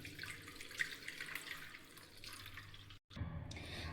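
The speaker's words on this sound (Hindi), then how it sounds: "अब इसको हम ठंडे पानी से धो देंगे।" Cold tap water running steadily over steamed peas in a kitchen sink, a continuous close splashing rush with a brief cut near the end before resuming.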